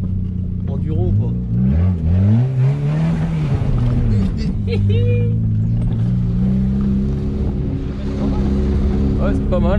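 A Peugeot 106 used off-road on a rough footpath, its engine droning loudly and steadily, with revs rising and falling throughout as people talk and exclaim inside the car.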